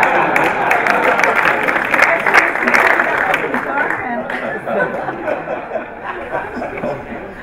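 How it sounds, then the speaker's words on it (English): An audience at a business leadership talk applauds, a broad wash of clapping mixed with chuckles and chatter, loud at first and then easing slightly toward the end. "Would you please give a round of applause for us?"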